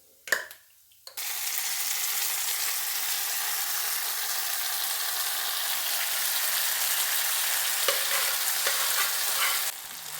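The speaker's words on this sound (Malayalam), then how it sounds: "ഇനി നമുക്കിതിലേക്ക് വേവിച്ച് വെച്ചിരിക്കുന്ന കഷ്ണങ്ങൾ ചേർത്ത് കൊടുക്കാം" Cooked jackfruit pieces tipped into a pan of coconut frying until red, then stirred; a steady loud sizzle fills the clip after a brief clatter at the start, with faint scraping near the end.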